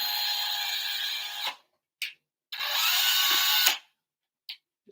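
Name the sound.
drilling a pilot hole in an RC aircraft part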